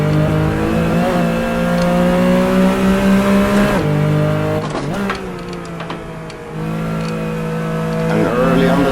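Porsche 911 Carrera RSR 3.0 racing engine in Assetto Corsa, a loud steady high-revving drone that rises through gears with brief shift dips and a lift-off, someone talking over it.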